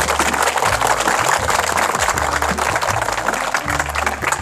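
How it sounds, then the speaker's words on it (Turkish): Studio audience applause greeting a guest on a Turkish TV comedy set, dense broadband clapping held steady throughout over a low background bed of music or rumble. "Alkışlar misafirimize."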